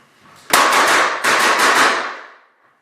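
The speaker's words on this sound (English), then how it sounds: "You can hear that our homeowner fired 7 rounds." A burst of rapid gunshots from a homeowner firing at a home intruder, seven sharp cracks in two quick clusters, loud and close, with echoing tails and no talking.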